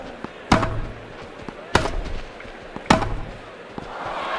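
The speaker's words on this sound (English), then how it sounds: "He's hit a lovely shot for a clean winner." Racket strikes in the Grand Slam Tennis 2 video game, three sharp evenly spaced hits about a second apart, each a crisp loud pop with a short decay over low background crowd ambience.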